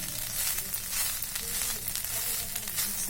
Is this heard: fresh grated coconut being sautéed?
yes